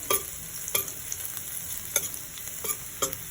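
Garlic and onion sauté in a pan with a continuous crackling sizzle, broken every second or so by sharp scrapes and clanks as a utensil stirs them.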